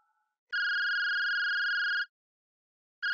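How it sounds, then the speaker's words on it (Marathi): A telephone rings at home with an electronic tone, one steady two-tone burst of about a second and a half followed by a pause and the start of the next ring. "बघ, कुणाचा फोन आहे ते बघ"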